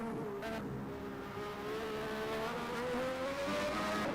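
An F1 car engine screams steadily on a hot lap at Suzuka in a 1991 Japanese Grand Prix racing game, high-pitched and sustained, with the pitch rising slowly.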